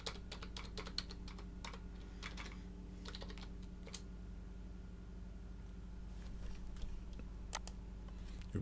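Keys on a computer keyboard are tapped out in quick, irregular bursts of light clicks as a password is entered, faint and close against a steady low hum with no talking.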